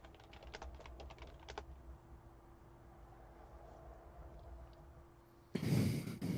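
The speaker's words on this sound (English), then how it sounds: "Oh, a lot of typing." Rapid keystrokes clatter on a computer keyboard in bursts during the first second and a half, then pause under a faint steady hum before a louder broadband noise cuts in near the end.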